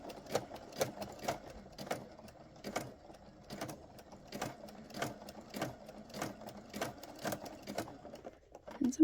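A sewing machine fitted with a walking foot stitches a jelly roll rug in slow, evenly spaced bursts, its mechanical needle thumps repeating about once a second, close and moderately quiet.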